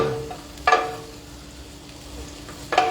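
Chopped onions sautéing in a pan, a steady soft sizzle broken by a couple of brief scraping stirs, close and clear, with no voices.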